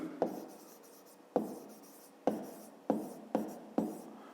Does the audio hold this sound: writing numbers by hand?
yes